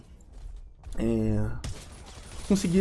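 Weapon fire in the mecha shooter game Super Mecha Champions: a short burst of sharp, clipped shots arrives suddenly, with a voice-like tone just before it and more fire at the end.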